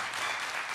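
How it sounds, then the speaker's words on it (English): Dense audience applause at a service-learning conference in a university hall, a continuous even wash of many hands clapping. "let's give a clap"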